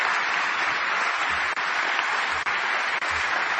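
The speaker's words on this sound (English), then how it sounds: "Can you give them a round of applause to say thanks for what you're doing, and all our candidates?" A large crowd at a Hillary Clinton campaign rally in Philadelphia claps for the candidates, a loud, dense and unbroken roar of applause from start to finish with only tiny dips.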